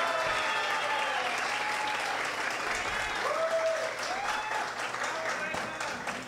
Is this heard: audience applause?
yes